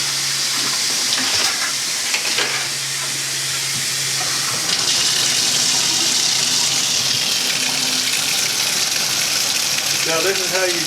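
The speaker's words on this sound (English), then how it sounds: "Now this is how you turn your shower on." A shower runs in a house in The Villages, Florida, a loud steady hiss of spraying water that fills the whole stretch, with a voice talking faintly beneath it.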